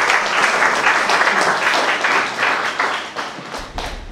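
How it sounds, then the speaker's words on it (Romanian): An audience at a book launch in Panciu, Romania, breaks into sustained, dense applause, with many hands clapping fairly loudly before it begins to thin out near the end. "Și-o aplaudăm."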